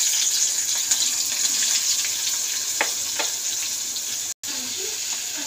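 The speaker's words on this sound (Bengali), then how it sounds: "তার মধ্যে পেঁয়াজটা দিয়ে দেবো" Hot oil in a wok sizzles steadily as onions go in, a constant bright frying hiss with a few faint clinks and a brief dropout near the end, no talking.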